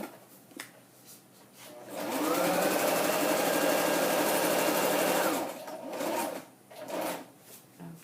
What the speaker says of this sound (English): I just need to sew down. So I've sewed down these 3 edges